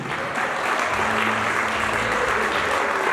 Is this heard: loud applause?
yes